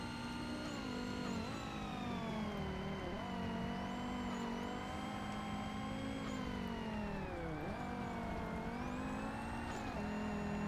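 A GT race car engine from Forza Motorsport drones loud and close, its harmonic tone sustained throughout, dipping and climbing with gear changes and throttle lifts as it laps.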